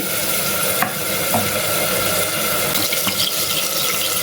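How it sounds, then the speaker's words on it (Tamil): Salt being stirred into a sautéed vegetable salna base for bun parotta, a steady close scraping and sizzling wash with a few sharp utensil clinks against the pan and no talking. "உப்பு போட்டு ஒரு கிளறு கிளறி வச்சுக்கலாம்"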